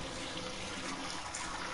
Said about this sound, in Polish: jak bryzga tą wodę